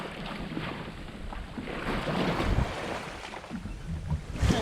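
A sailboat steered by a wind vane on a beam reach, pushing through open sea at several knots; steady wind rush and water wash fill the scene, with no voices.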